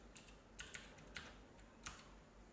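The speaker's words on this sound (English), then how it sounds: "I type my password." A password being typed on a computer keyboard: a handful of soft, close key clicks tapped in an uneven rhythm over quiet background hiss.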